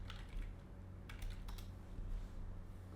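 Quick keystrokes tap on a computer keyboard close by in a quiet room, a short soft flurry of clicks over a low steady hum.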